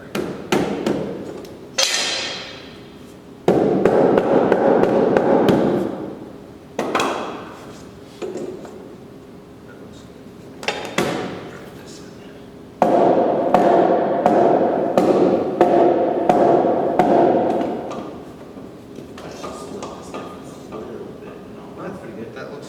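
Timber-frame knee braces are driven into place with a series of sharp, loud hammer blows. They come in irregular bursts, some in quick runs, with short pauses between them and a brief voice in the background.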